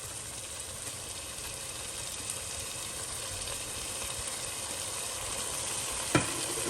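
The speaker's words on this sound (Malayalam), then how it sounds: "സോ തൈര് ആവശ്യത്തിന് ഇട്ടതിന് ശേഷം ഇത് നല്ലപോലെ മിക്സ് ചെയ്യുക." Paneer biryani masala with yogurt, mint and coriander being stirred in a pan, a steady soft scraping and sizzle running throughout with one brief clink near the end, no talking.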